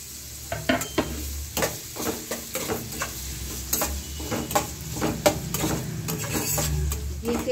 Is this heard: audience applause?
no